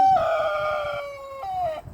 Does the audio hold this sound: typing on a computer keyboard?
no